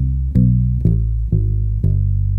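A bass guitar plays a walking line from C down to G, four clean, evenly spaced low notes stepping downward, close and alone.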